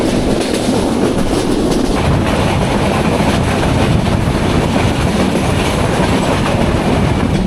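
Train rolling into Abdulpur junction, a loud, continuous rumble of wheels on rail with clattering, heard from on board the train.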